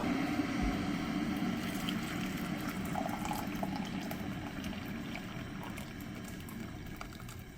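Water pours and splashes steadily into a pot of smoky brisket being cooked for freeze drying, a continuous close liquid wash at low level with no talking.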